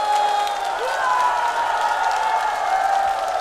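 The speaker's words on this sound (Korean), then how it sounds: "뜨거운 박수 부탁드리겠습니다" Audience applause and cheering at a Korean trot music show, a steady, dense wash of clapping that fills the whole stretch at a fairly loud level, with some held musical tones underneath.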